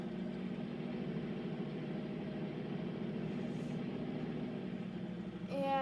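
A supercharged V8 in a Chevy K30 Silverado from Farming Simulator 19 idles steadily with an even, low, throbbing rumble, ending with a brief higher-pitched sound at the very end.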